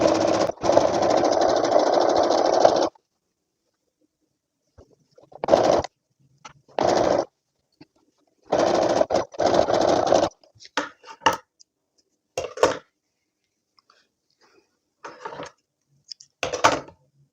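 A sewing machine stitches a garment lining in bursts: one long steady run, then several short runs separated by silences and light handling noises.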